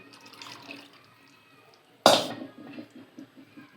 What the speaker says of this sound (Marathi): यामध्ये आपल्याला थोडंसं पाणी ॲड करायचं आहे